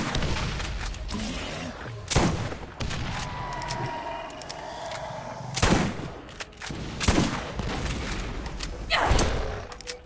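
Shotgun blasts in the Borderlands video game, roughly five loud booming shots at irregular intervals over a continuous background of game ambience, with no talk.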